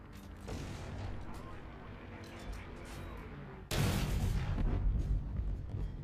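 A tank cannon in War Thunder fires one sudden, loud, booming blast partway through, followed by a heavy rumble that holds above the steady battlefield and engine noise already present. No one speaks.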